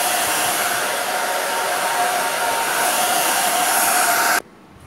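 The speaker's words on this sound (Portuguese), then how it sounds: "vou colocar um papel alumínio e vou passando o secador" A hair dryer blows steadily over aluminum foil on hair being bleached, with a loud, constant rushing hiss, then switches off abruptly near the end.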